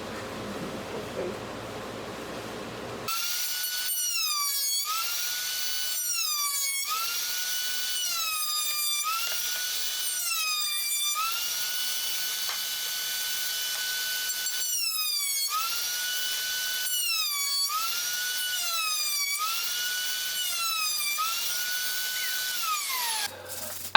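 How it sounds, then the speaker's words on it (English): A power router cuts a repeated design into a wooden headboard, its loud high whine rising and dipping in regular passes, with pauses between cuts, close and continuous with no talking. "So he routed the same design as on our nightstand drawers."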